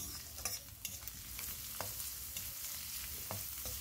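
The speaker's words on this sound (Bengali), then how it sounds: "তো গাজরটা একটু নেড়ে চেড়ে নেব" A spatula scrapes and stirs carrots frying in a wok, soft rhythmic scrapes and clacks over a steady, quiet sizzle with no talking.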